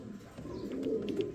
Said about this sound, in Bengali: এটা হচ্ছে নর কবুতর শেখ শাহ আলী।